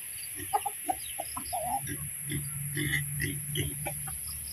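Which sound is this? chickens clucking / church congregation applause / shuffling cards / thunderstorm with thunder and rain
chickens clucking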